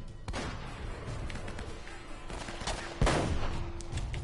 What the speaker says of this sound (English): This seems like a small sniper rifle.